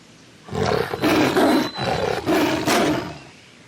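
Wolves in a video game let out several long, loud growling roars in a row, each lasting about half a second to a second, with brief pauses between them.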